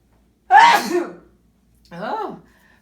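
A single loud sneeze bursts out, followed after a short pause by a softer voiced exhale or second sneeze-like sound, close to the listener.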